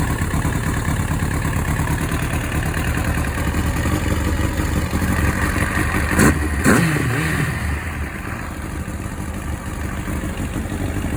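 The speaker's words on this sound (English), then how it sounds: "So she starts, that's good news. I'm gonna put a little bit of idle." A 1999 Kawasaki ZX9R motorcycle engine running at a steady, loud, close idle during carburetor syncing, with a brief rev near the middle before settling back to a slightly quieter idle.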